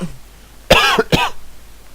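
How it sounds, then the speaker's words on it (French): Two sharp coughs in quick succession, close and loud, with quiet around them, from a person with a persistent cough. "ça fait 2 semaines que je tousse sans arrêt"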